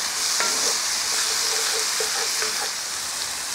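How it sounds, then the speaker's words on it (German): Grated garlic sautéing in a hot pan, a dense steady hiss of frying with a few light clinks from stirring, close and continuous, no talking. "haben wir den Knoblauch gerieben, der kommt als nächstes dazu und auch den schwitzen wir nur ganz kurz mit an"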